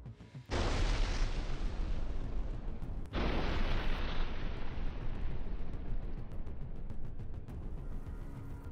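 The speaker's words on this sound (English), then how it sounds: "destruction of an M80A infantry fighting vehicle belonging to the Ukrainian armed forces by a guided artillery shell from a D-20 howitzer" A guided artillery shell fired from a D-20 howitzer strikes an M80A infantry fighting vehicle. Two loud, sudden blasts land a few seconds apart, each followed by sustained rumbling roar and debris noise, with no voices.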